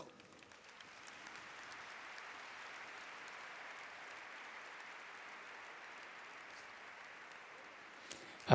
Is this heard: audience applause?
yes